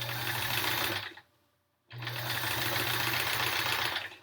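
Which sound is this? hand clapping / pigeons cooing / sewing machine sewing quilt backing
sewing machine sewing quilt backing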